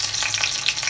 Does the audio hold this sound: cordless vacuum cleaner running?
no